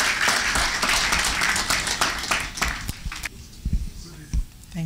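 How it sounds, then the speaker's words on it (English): Applause from a conference audience fills the room, then thins to scattered claps and footsteps, with voices talking underneath. "Please, a round of applause as he comes forward."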